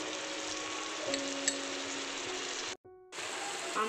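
Spice paste fries with tomatoes in a pan for a fish curry, giving a steady close hissing sizzle throughout, briefly cut off near the end before resuming.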